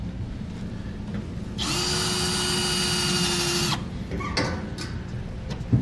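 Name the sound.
drilling holes in truck bed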